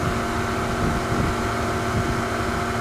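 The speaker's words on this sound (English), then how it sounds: "I can't hear you over the engine." A vehicle engine runs loudly and steadily throughout, a constant low drone with wind noise, close to the microphone, during a police patrol in Nye County, Nevada.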